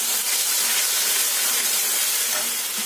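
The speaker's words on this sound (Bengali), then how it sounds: "পোস্ত বাঁচা সর্ষে বাঁচা সামান্য একটু জল দিই কষিয়ে নিয়ে আসবো মশলাগুলো" Water hits a frying paste of poppy seed and mustard in a pan, giving a loud, even burst of steamy hiss that holds for about three seconds, with no one speaking.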